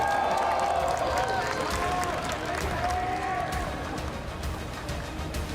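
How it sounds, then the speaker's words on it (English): An esports arena audience at a League of Legends semifinal applauds and cheers for team G2, a steady wash of clapping and crowd noise heard from a distance. "Can we get a round of applause for G2, everyone?"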